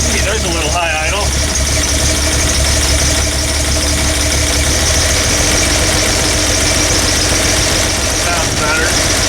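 A 1979 Toyota Land Cruiser engine with a new starter idles steadily after a high idle adjustment, a continuous low rumble filling the whole stretch, with brief voices and a faint clatter near the start.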